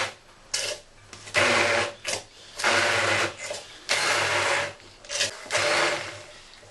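Food processor pulsing basil for pesto: several short bursts of whirring blade noise with brief gaps between, close and moderately loud, about five pulses.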